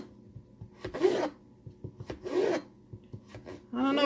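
A knife slices potato into roughly one-centimetre French fry strips, giving a few separate close rasping cuts with quiet pauses between them and no talk.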